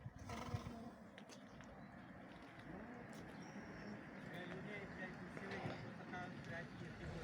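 Heavy draft horses snort and whinny amid steady hoof clatter, with a busy outdoor murmur and occasional voices in the background.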